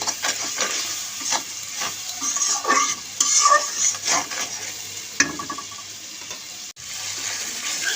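A spice masala for khalisa fish curry sizzles wetly in the pan while a spatula stirs and scrapes, producing a moderate frying hiss with uneven bursts and clinks and no talking.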